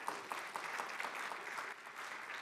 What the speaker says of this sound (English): So if I could get applause for them too.